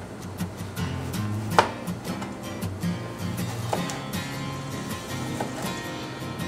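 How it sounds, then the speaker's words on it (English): A knife chops through a tomato on a board in a series of soft, uneven taps and cuts, fairly close, with a low rumbling background beneath. "Now you have your tomato and you can cut it however you want."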